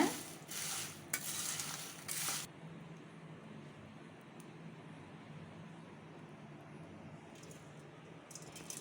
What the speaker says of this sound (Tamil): உப்பு மிளகாய் பொடியும் போட்டு கலக்கியாச்சுங்க